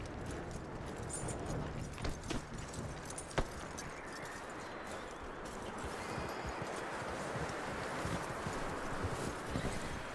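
Hooves of a horse in the video game Red Dead Redemption 2 clip-clop at a steady walking pace over a constant outdoor hiss, with a faint jingle of tack now and then.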